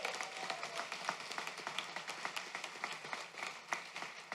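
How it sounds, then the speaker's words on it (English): Audience applause at a Doctor of Physical Therapy commencement and hooding ceremony for graduates who passed their board exam: faint, distant, steady clapping from a crowd with no talk over it. "a big round of applause for those who already passed their board exam"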